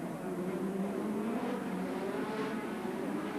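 Ayrton Senna's Lotus Formula 1 car at the 1987 Monaco Grand Prix, its engine a steady, loud high-pitched drone holding for the whole stretch with a slight rise and fall as it runs.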